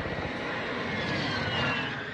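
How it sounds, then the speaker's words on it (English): Recon UAV drone from the video game Warzone flying overhead, a steady broadband engine drone holding at even loudness throughout with no voices. "UAV online and orbiting the AO."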